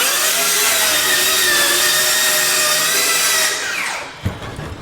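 DeWalt 20V DCS590 cordless circular saw cutting through wood, a loud close high-pitched whine held for several seconds before the blade spins down and the cut ends with a knock.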